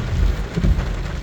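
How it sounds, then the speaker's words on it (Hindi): Heavy rain pouring down in a park, a loud dense hiss of drops with low rumbling swells, close and continuous with no talking. "बहुत प्यारी बारिश हो रही है, ज़बरदस्त।"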